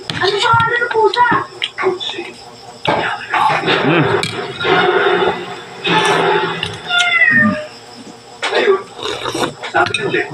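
A cat meows repeatedly at close range during a home mukbang meal, with rising and falling cries heard over people talking and chewing.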